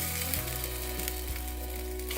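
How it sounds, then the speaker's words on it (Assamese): Raw rice for polao fries in oil in a pan, giving a continuous close sizzle and crackle at an even level, with faint tonal hum beneath and no talking. "এইখিনি অলপ দেৰি ভাজিম এতিয়া মই"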